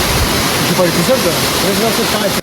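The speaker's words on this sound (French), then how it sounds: "Nous nous sommes arrêtés dans une cascade" A waterfall roars loud and steady from start to finish, a dense wash of falling water. A voice speaks faintly underneath, and the sound cuts off abruptly at the end.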